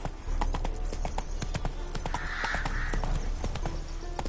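Horse hooves clip-clop steadily on the ground in The Witcher video game, a close, even trotting rhythm of sharp knocks over a constant background bed, no talking.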